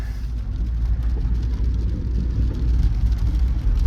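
Volkswagen Jetta with a muffler delete driving along, a steady loud low engine drone and road rumble continuing throughout without pause.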